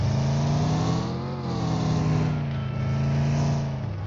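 Car engine revving in a battle-royale video game, a steady mid-pitched drone holding loud and continuous throughout, with a slight dip and swell in the middle.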